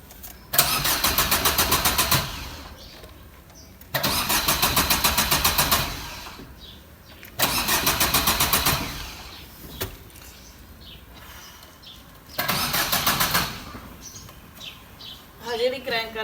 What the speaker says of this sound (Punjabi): ਜਿਹੜੀ ਕ੍ਰੈਂਕ ਕਰ ਰਹੀ ਹੈ ਸਟਾਰਟ ਨਹੀਂ ਹੋ ਰਹੀ।